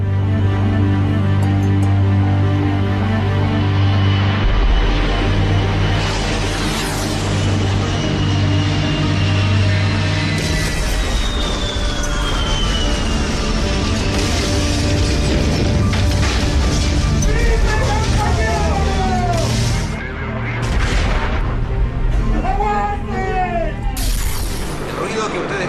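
Archival recording of heavy vehicles, apparently tanks, rumbling alongside gunfire during the 11 September 1973 coup in Chile, with a steady loud mechanical din, booms and crackling shots throughout, and voices mixed in.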